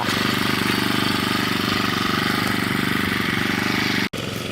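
A small lawn mower engine driving a water pump runs loud and fast with a rapid chugging pulse, steady throughout, briefly dropping out for an instant near the end.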